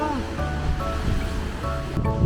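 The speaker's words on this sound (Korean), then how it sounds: "아주 무시무시한 파도가 치죠." Ocean surf pounds steadily at Gap Park in Sydney, a continuous loud roar of waves against the cliffs with wind, while voices talk faintly over it.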